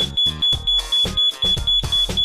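A security gate's burglar alarm system sounding, a loud piercing electronic tone repeating in rapid rhythmic pulses.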